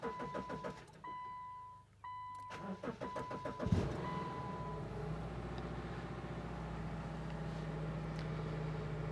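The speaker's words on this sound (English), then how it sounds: "time to start the engine up and run the transmission through the gears" A Subaru with a TR690 CVT cranks and fires up: door chimes and clicks first, then the starter whirs, the engine catches and settles into a steady idle running close by.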